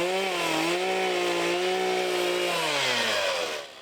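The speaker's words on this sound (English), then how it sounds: "now taking up chainsaw carving" A chainsaw carves wood up close, its engine holding a loud, steady whine that dips and bogs slightly as the blade cuts, then fades away at the end.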